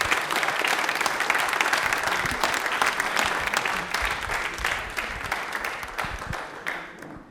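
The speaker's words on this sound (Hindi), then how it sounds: "तालियां एक बार बजा दो इनके लिए जोरदार वाली।" Loud, dense audience applause in a television quiz studio, many hands clapping steadily and fading slightly toward the end.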